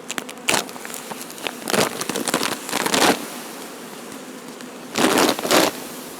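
Many honey bees buzz close by at the hive, the droning swelling in loud bursts and easing into quieter stretches, with no voices.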